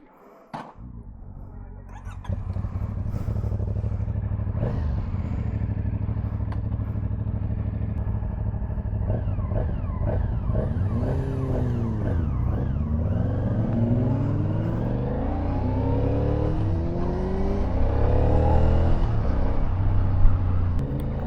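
A cruiser motorcycle with its stock exhaust idles and revs close by, a steady low rumble that swells and dips through several throttle blips over about twenty seconds, growing slightly louder toward the end.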